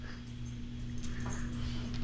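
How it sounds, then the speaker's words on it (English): A wet dog whimpers faintly in a yard, the soft whines barely rising over a steady low hum. "There's even a doggy."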